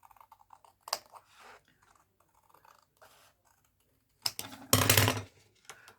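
Scissors cut paper up close in short snipping bursts, one brief crunch near the start and a louder, longer cut toward the end, with quiet rustling between.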